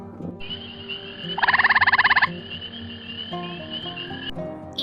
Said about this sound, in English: Gray tree frog.